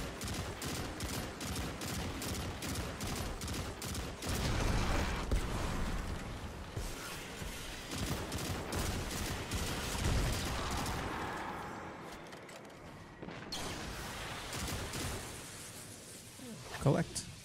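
Rapid bursts of pulse rifle fire in Destiny 2 crackle in quick repeated volleys through most of the stretch, mixed with other game effects, while players talk over the shooting.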